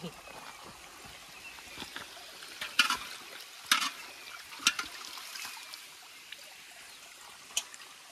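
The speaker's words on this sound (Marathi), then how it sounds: "धुतोय तो आता पातेलं" A cooking pot is rinsed with water, with a soft trickle and dribble under a few sharp clatters and splashes, close by, while people talk.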